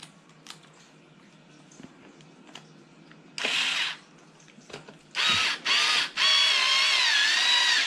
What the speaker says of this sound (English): I just get my cordless screwdriver and zap it down